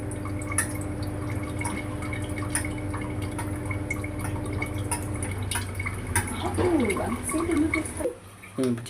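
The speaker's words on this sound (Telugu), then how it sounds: "పొయ్యి వెలిగించి ఇదిగోండి ఆయిల్ వేద్దాము" Cooking oil poured into a pan on a lit stove while making gongura biryani, a close liquid trickle with light dripping over a steady low background hum.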